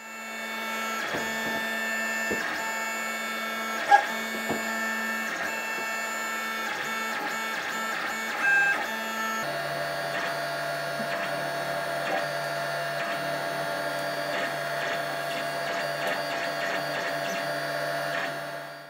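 A 3D printer prints a thick plastic chassis for a motion capture suit, a steady close whine of stepper motors with shifting buzzing tones, a few faint clicks and a change in pitch midway, with no talking.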